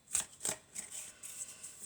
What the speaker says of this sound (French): les cartes tombent en tas.